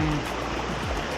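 Flowing water from a stream along a nature trail near Alitap Falls in Mauban, Quezon, a continuous close rush that fills the short stretch.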